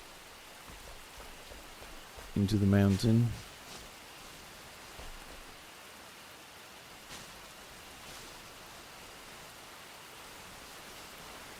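Steady rain pouring down in the video game Enshrouded, a continuous even hiss heard underground, with a brief loud musical tone and a man's short remark over it.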